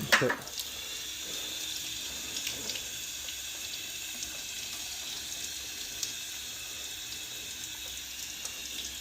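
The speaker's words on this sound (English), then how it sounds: "He opened up the faucet, huh?" Steady hiss of water running from a wide-open faucet in a basement near a whole-house water filter install, flowing under high pressure into a drain trap at a constant level with no break.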